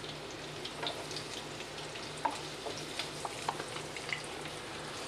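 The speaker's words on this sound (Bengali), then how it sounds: "খুব কড়া ভাজবো না, জাস্ট একটু হালকা করে ভেজে নেবো।" Fish lightly frying in a pan for Bengali aam shol, a steady soft sizzle with small scattered pops, fairly quiet and continuous with no talk.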